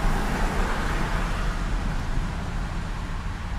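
A Ford F150 pickup coasting toward a stop, heard from inside as a steady, broadband road and tire rumble with soft wind noise that eases slightly as the truck slows, with no voices.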